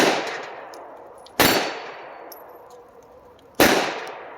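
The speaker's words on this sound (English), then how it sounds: "Let's get back to shooting and have a little bit of fun." Gunshots at an outdoor shooting range, three loud sharp reports spaced a couple of seconds apart, each ringing out and decaying before the next.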